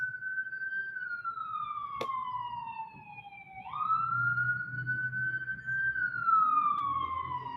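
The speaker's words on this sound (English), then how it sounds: "Got a straight up siren going through." A police siren wails past in a rising and falling sweep, fairly close and loud over steady low traffic rumble, the pitch dipping and climbing again as it goes by.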